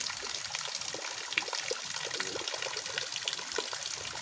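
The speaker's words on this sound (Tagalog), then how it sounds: "Tapos wala, tuloy pa rin yung ulan." Rainwater trickles and dribbles steadily, faint and continuous, with no voices over it.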